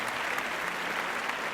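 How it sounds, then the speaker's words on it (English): Steady applause from a crowd, a dense even wash of clapping that runs unbroken through a short stretch at moderate distance. "This applause is for you."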